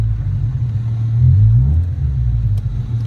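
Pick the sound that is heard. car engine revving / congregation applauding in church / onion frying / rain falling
car engine revving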